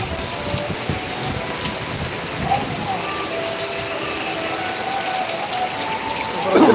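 Heavy rain with thunderstorm conditions pours steadily in Yemmiganur, Kurnool district, Andhra Pradesh, a dense, continuous hiss of drops on surfaces that stays loud and even throughout.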